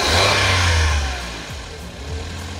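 Suzuki DE64V 4x4 with a K6E engine that has a fault making it run at high RPM: a loud, close engine roar that eases back briefly and then holds at a raised idle.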